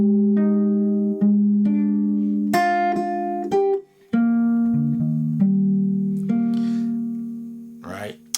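A jazz trio plays a harmonized phrase from a standard, a series of clear sustained chords and melody notes that change every second or so, ending in a short rolled flourish, with no voices.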